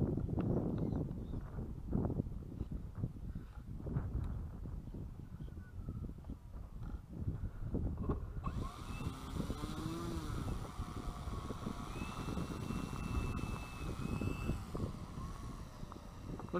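Model airplane engine running as the plane taxis before its maiden flight, a rough buzzing drone that stays close and steady with pitch shifts partway through.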